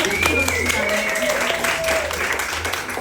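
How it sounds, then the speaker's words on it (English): An evening fundraising event crowd applauds a co-founder, steady moderate clapping that runs throughout under talking and cheering voices. "Can we just give her a round of applause?"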